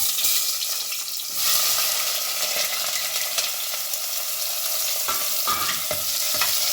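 Mushrooms for a mushroom biryani fry in a pan with biryani masala, browning in a steady, close, hissing sizzle broken by a few soft stirring scrapes.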